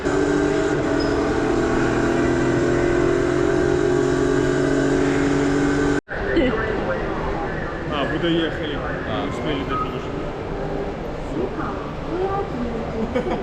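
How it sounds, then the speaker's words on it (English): A racing car engine roars in a Le Mans race video game. It holds a steady, droning pitch, then cuts off abruptly and gives way to a rougher, noisier engine run. "I'm racing, guys, the Le Mans race."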